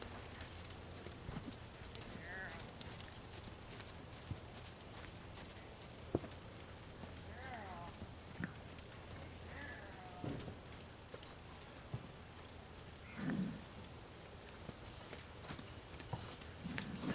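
A horse's hooves beat a soft, steady clip-clop as it moves out on a circle during a riding lesson, faint and spread across the stretch with occasional louder footfalls and light background noise.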